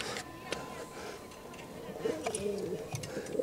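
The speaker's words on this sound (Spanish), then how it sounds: "Esto es un pichonzón cenizo." Low, soft cooing from an ash-grey young pigeon in a loft, murmuring in short phrases beneath a steady bed of room noise and faint background voices.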